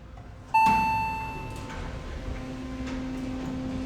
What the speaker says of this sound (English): We can listen to the chime again.